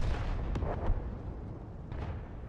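A tank cannon fires in World of Tanks, a sharp boom over a steady low engine rumble, followed moments later by a second fainter report.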